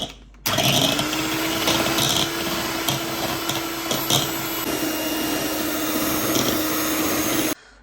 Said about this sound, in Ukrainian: міксер я помила і буду збивати мої три білки до піни